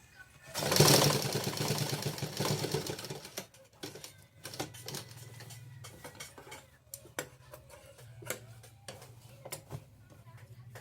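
Sewing machine stitching a shirt collar, a loud burst of running noise at the start, then shorter clattering runs and clicks with pauses.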